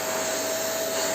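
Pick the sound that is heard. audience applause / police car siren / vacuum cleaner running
vacuum cleaner running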